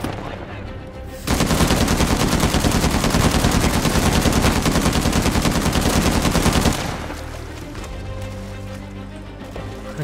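Video game gunfire in Uncharted 4 erupts as a sustained rapid automatic burst lasting several seconds, loud and dense, then cuts off to quieter game ambience.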